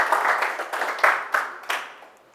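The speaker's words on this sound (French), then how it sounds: "je pense qu'on peut les applaudir pour commencer déjà, avec toute l'équipe" Audience applause at a French tech conference talk, a dense crowd clapping steadily at moderate volume with a few louder surges before it thins out and fades near the end.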